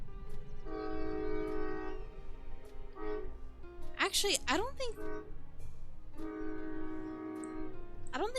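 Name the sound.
train passing in the video game Final Fantasy XIV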